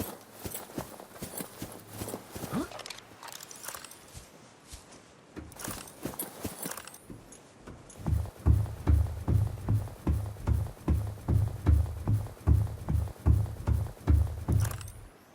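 Running footsteps in the video game Subnautica, a steady fast rhythm of thudding steps that grows louder and heavier in the second half, with no talk.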